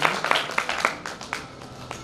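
Audience applause at a symposium hall, a scattering of hand claps with uneven rhythm, moderately near, tapering off slightly over the short span.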